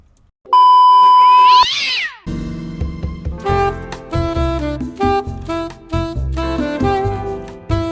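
A cat in a basement lets out a loud, drawn-out rising meow, followed by a run of electronic tones or music-like beeps and clicks that continue over the rest of the moment.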